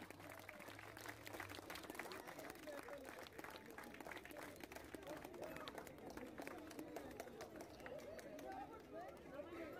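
Audience applause at a biryani cooking competition final as the first prize is presented: steady dense clapping from a crowd throughout, with murmuring chatter and voices mixed underneath.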